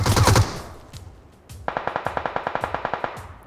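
Gunfire in the PUBG Mobile video game: a loud opening shot burst, a brief lull, then a steady rapid string of about fifteen evenly spaced automatic rounds, close and clear with no voices.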